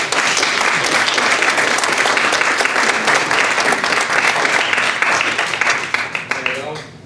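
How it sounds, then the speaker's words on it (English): Warm, sustained applause from a Toastmasters audience, dense crowd clapping at full volume that carries on steadily before thinning and fading out near the end, with faint crowd murmur underneath. "Please give a warm round of applause for these outstanding leaders."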